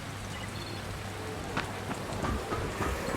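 Steady rain in Dying Light, a dense, continuous patter of drops on surfaces filling the scene at an even level, with a few slightly louder splashes toward the end and no talking.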